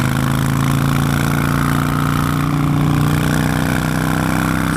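A Harley-Davidson Nightster motorcycle engine pulls steadily up country hills, its deep, even drone loud and close throughout with no speech.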